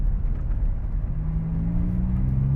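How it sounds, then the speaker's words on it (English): A Ferrari 430 Scuderia's 503 hp engine hums and rises slowly in pitch while driving, a steady low rumbling drone heard from inside the lightly insulated cabin. "Just a great engine sound."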